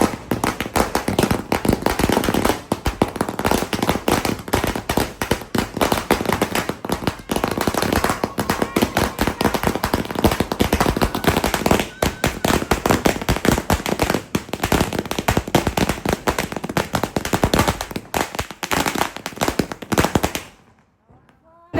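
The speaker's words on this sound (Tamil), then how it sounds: "டே வெடி வந்து வெடிச்சாச்சு." Rapid strings of Diwali firecrackers crackle and pop nonstop, loud and dense like machine-gun bursts, before cutting off abruptly near the end.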